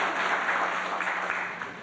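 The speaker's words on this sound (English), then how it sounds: "the two of them deserve a big round of applause" Audience applause at a family reunion gathering, a steady wash of many hands clapping for about two seconds, fairly close and gradually easing.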